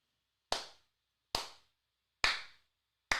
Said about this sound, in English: She's worthy of a slow clap.